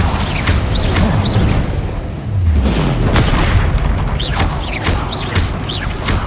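Bombarda explosion spells cast in Hogwarts Legacy, a loud run of deep booms and crashing bursts with whooshing magical effects repeating every second or so, close and continuous.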